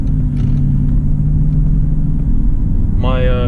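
A Mercedes-Benz CL600 V12 drives with a loud, steady low rumble close by, and a brief rising engine tone near the end.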